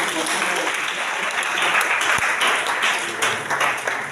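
A church congregation applauding during a worship service, a sustained wash of clapping from many hands mixed with cheering voices, loud and continuous throughout.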